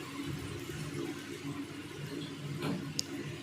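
Half a cup of water poured onto jaggery in a pan on a lit stove: a short, steady watery pour lasting a few seconds, close and moderately loud, with a small clink near the end.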